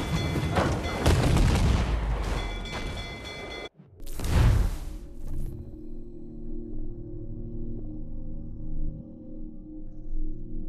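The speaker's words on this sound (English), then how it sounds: "Fire what cannons you will, and land a few strikes if you must." Ship cannons fire in Assassin's Creed IV Black Flag, a dense cluster of loud booms followed by one sharp blast, then a sudden drop to a quieter, lingering rumble.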